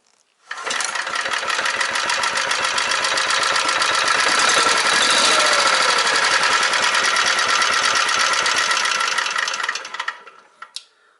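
A small engine, just reassembled after planned maintenance, starts up and runs at a fast, buzzing, loud rattle for about ten seconds, then cuts off with a couple of trailing sputters.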